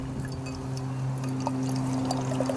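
A 7.1% ABV Monkish x Other Half beer pours steadily into a glass with a soft gurgling fizz, set against a low steady hum and faint outdoor noise.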